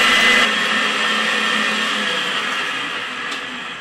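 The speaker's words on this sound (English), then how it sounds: "let this blend for about 30 seconds on a medium speed" A blender whirs steadily at medium speed, mixing batter for a low-carb poke cake, a loud continuous drone that eases slightly over several seconds with no voices.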